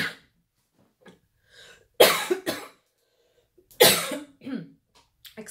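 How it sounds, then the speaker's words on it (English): Repeated harsh coughing from a person, several loud bursts with short pauses between them, close and with no other sound. "excuse me that I'm coughing so much."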